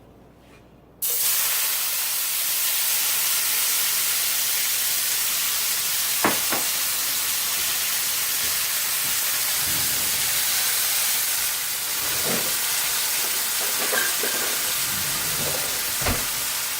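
Diced onion hits hot butter in a pan and breaks into a loud, dense, hissing sizzle that carries on steadily, with occasional light clicks and scrapes from the pan.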